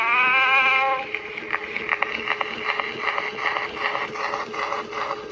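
A Columbia Model AA Graphophone plays a cylinder record, giving a thin, band-limited tone of steady harmonic notes at first, then busier pulsing music over constant surface hiss, moderately loud throughout.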